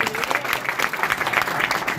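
Audience applause at a motivational business speech, dense steady clapping from a crowd filling the whole stretch, loud and continuous with no voices over it.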